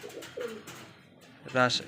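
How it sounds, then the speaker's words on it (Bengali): Pigeons, mostly high flyer Giribaj birds kept at a home loft in Kathakhali, Rajshahi, give a few soft coos, with a stronger burst near the end; faint voices are audible in the background. "এখানে হাই ফ্লায়ার কবুতর বেশিরভাগই"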